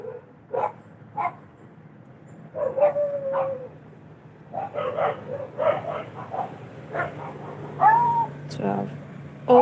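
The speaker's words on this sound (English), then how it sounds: "they're from my neighbor's dogs" Neighboring dogs bark and yip in short scattered bursts at moderate distance, with a few higher whining calls between, while a person speaks nearby.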